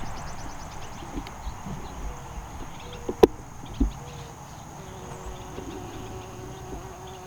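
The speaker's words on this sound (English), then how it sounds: "The bees are waking up." Faint buzzing of bees around flowers drifts through a quiet outdoor scene, with a few soft knocks and bumps nearby.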